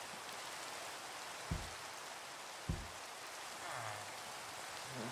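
Steady, quiet rain hiss from a Minecraft game runs throughout, soft and even, with two brief low thumps and no talking.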